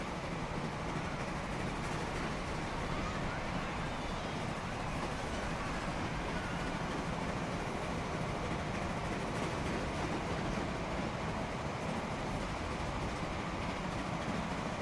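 An international train runs in the rail transport game Transport Fever on a UK and Ireland map, a continuous rumbling, clattering drone that stays steady and dense throughout, with no pauses or talk.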